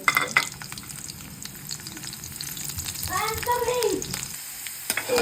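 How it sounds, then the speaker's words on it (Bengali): Garlic frying in hot oil sizzles steadily up close, with spatula scrapes and metallic clinks from stirring and a brief squeaky scrape partway through. "তো এরকম রসুনগুলো ভেজে নেব আমরা"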